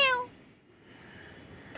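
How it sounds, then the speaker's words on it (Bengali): A single short cat meow at the start, then quiet room noise with faint background sound. "মিয়াও খালি মিয়াও।"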